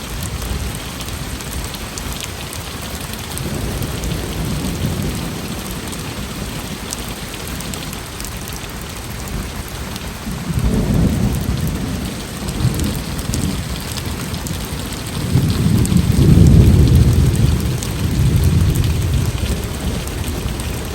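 Steady rain falls throughout while deep rolling thunder rumbles in waves, growing louder toward the end as the storm seems to draw closer.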